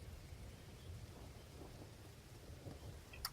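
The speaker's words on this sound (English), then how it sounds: "So the rain and thunder and lightning continues throughout the night." Rain and rolling thunder play as a tabletop role-playing game sound effect, a steady low rumble with soft rain hiss throughout and a brief crackle near the end, with no talk over it.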